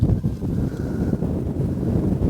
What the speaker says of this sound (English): it's so windy out here right now